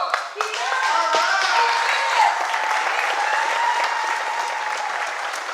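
Loud, dense applause from an event audience, steady and sustained for several seconds, with a brief whoop or voice rising over the clapping.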